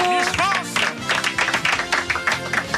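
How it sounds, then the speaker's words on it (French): A television studio audience claps for Valérie Bègue, Miss France 2007, a dense burst of applause that swells and carries steadily to the end of the short clip. "Applaudissements pour Valérie Bègue"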